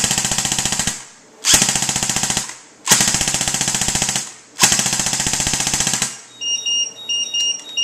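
An ICS 551 airsoft rifle fires full auto in four rapid mechanical bursts separated by short pauses, loud and close, followed by a few faint clicks and handling noises.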